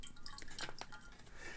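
Liquid fining agent poured into a Kenridge Classic Gewurztraminer wine kit, a brief close trickle and drip of liquid over quiet background noise.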